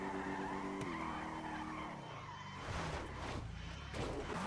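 A BMW M4 in GTA 5 accelerates hard, its engine note rising and shifting while tires skid and squeal loudly, the screech growing rougher toward the end with no talking.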